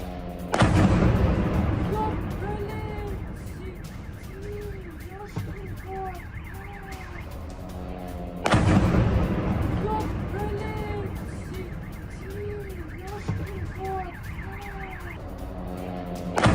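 A Pantsir air defense system fires missiles in Krasnodar Krai, Russia, in news footage: two loud roaring blasts about eight seconds apart, each fading into rumbling noise with warbling siren-like tones, while a voice talks over it.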